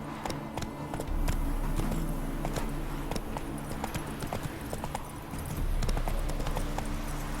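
Roach the horse galloping in The Witcher 3, a fast rhythmic clip-clop of hooves, fairly close and steady, over a low rumbling background.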